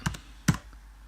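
Two quick bursts of clicks on a computer keyboard, close and crisp, with a short gap between them and near silence after.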